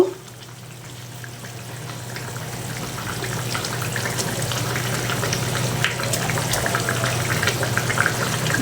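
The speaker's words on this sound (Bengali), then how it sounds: "এখনই দেখো ঝোলটা ফুটে উঠলো, আর আমি এখানে মাছগুলো দিয়ে দেব।" Boiling curry gravy sizzles and bubbles in a pan as fish pieces go in, a steady close frying hiss with low hum underneath and scattered crackles, no voices.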